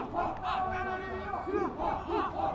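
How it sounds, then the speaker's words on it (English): At a cricket match in the 2017 LMS World Championships between Jhoolay Laal Bangers and Thunder Dragons, a crowd cheers and shouts for a wide. The burst of voices is brief and fairly distant. "Big cheer for the wide."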